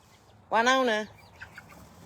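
A single chicken lets out a loud, drawn-out squawking cluck of about half a second, followed by a couple of faint short clucks against quiet farmyard background.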